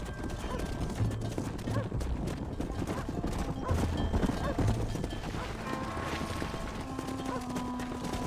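Horse hooves clip-clop at a steady walk into a pen in the Western video game Red Dead Redemption, set against a busy ambient backdrop with a faint whinny and low game music.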